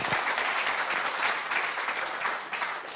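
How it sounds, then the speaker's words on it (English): A conference audience at an education technology summit in Kenya gives sustained applause as the next speaker is introduced. The dense, even clapping holds steady throughout. "A round of applause for her."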